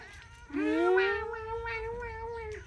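A small kitten at a rural Thai home gives one long, drawn-out meow that rises and then holds steady for about two seconds, clear and close with only faint background noise.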